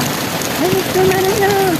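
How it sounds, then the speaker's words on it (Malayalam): Loud, dense rain pours close by, with a brief voice sounding over it partway through. "നല്ല ഭ്രാന്ത് മഴ"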